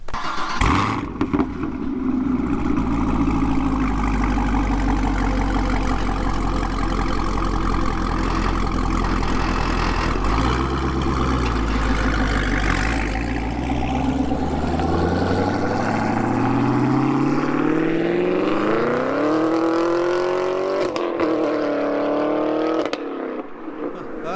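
A Camaro SS 1LE V8 with a Corsa exhaust burbles and rumbles continuously at close range, its exhaust note swelling and rising in pitch toward the end before cutting off.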